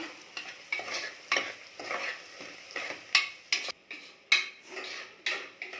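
Onion with salt and turmeric fries in a pan under repeated scraping strokes of a spatula against the metal, a close, rhythmic stirring over a soft sizzle.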